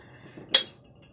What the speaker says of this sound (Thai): อันนี้ก็เป็นล้างจานค่ะ ของหนักหม้อกระทะนะคะ